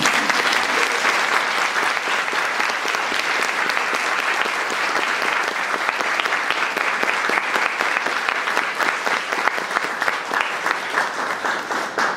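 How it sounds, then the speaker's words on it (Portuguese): Dense, sustained audience applause at a vegan festival talk, steady and loud for the full length without letup, many hands clapping at once. "Acho que isso merece um pouco de aplauso."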